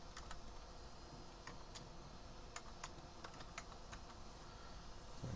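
Keys clatter on a computer keyboard in steady bursts of typing, close and fairly quiet, with no voices over it.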